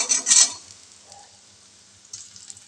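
A short loud sizzle and scrape as cut and washed medium-sized potato pieces hit frying spice masala in a pan, then a quiet simmer with faint stirring and a brief second sizzle.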